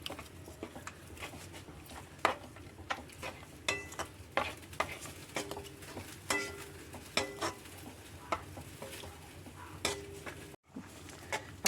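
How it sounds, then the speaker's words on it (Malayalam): A coconut milk gravy for okra mappas simmers in a pan, a quiet bubbling under scattered clinks and scrapes of a spoon stirring it. "അപ്പോൾ നമ്മൾ 2-ാം പാൽ ഒഴിച്ചിട്ട് തിളച്ച് വന്നിട്ടുണ്ട്."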